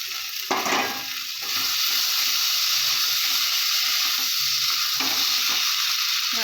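Fried potatoes dropped into a pan of chicken ghugni set off a sharp burst of sizzling, which settles into a steady, loud frying hiss that carries on to the end.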